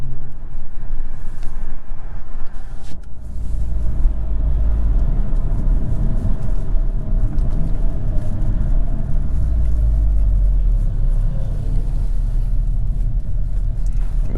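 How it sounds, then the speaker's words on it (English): A 2022 Hyundai Kona N drives hard through a tunnel, its engine and turbo making a loud, steady, booming roar with a deep rumble that echoes and holds for the whole run. "You can see the turbo noise is a lot more prominent."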